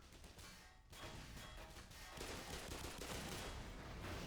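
Dense video game gunfire in Black Mesa, steady rapid shots with crashing blasts that may include grenade explosions, loud and continuous for the whole stretch with no pause.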